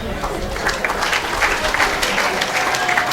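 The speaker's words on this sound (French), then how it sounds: "Si on peut applaudir encore une fois de plus à toutes les mamans qui ont témoigné ici" An audience at a health ministry event applauds the mothers who gave testimony, with dense, steady clapping throughout and voices faintly mixed in.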